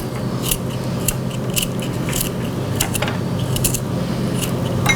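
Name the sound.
cutting garlic into small pieces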